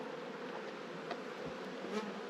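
Honey bees buzz steadily around beehives during honey harvest, a soft continuous hum with a few brief louder passes close by.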